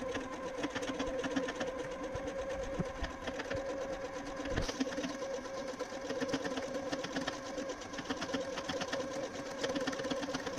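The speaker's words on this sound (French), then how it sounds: "La machine coud en boucle la séquence indéfiniment" A Bernette Sew&Go8 sewing machine runs a stitch sequence from memory on a loop, its steady mechanical whir and rapid needle clatter continuing unbroken and close throughout.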